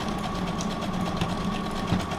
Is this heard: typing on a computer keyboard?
no